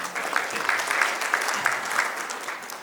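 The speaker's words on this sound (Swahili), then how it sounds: "Makofi kwa Mheshimiwa Waziri." Applause for a government minister at a World Kiswahili Day celebration, a steady patter of many hands clapping close by, sustained throughout without a break.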